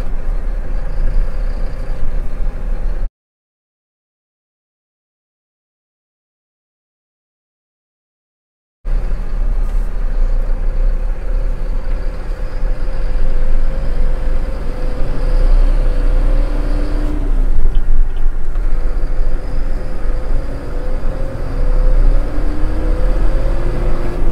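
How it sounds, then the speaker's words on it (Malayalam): A BharatBenz 1923C BS6 tipper truck drives along with a steady low engine drone and road rumble, loud and close, broken by a stretch of silence early on. "അപ്പോൾ നമുക്ക് എന്തായാലും വണ്ടി ഒന്ന് ജസ്റ്റ് ഒന്ന് ഡ്രൈവ് ചെയ്ത് നോക്കാം."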